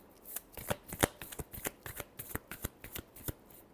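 Tarot cards being shuffled by hand, close and crisp, with a steady run of quick riffling flicks and slaps across the whole stretch and no talk.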